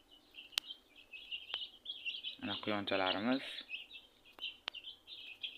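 Chicks chirp outdoors on a small farm with rabbits nearby, giving faint, high repeated peeps over a steady background hiss, with a short burst of speech in the middle.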